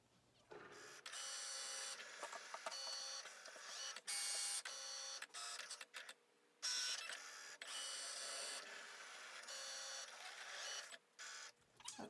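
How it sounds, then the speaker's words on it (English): A Cricut cutting machine slices unbonded fabric for a DIY face mask with a filter pocket, giving a loud, steady mechanical whir broken by short pauses and carriage shifts, with no talking. "Now we're just going to try to cut the fabric."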